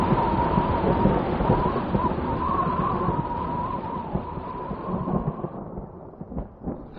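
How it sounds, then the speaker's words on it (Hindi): Heavy rain pours outside during a storm, a dense continuous roar that stays loud and steady throughout, with a rumbling low undertone like distant thunder and a few sharper spatters near the end. "बाहर कितनी तेज बारिश हो रही है"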